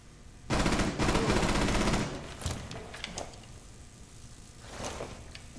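Rapid automatic gunfire in Rainbow Six Siege on the Oregon map, a loud sustained burst lasting about a second and a half, followed by scattered quieter shots and clatter.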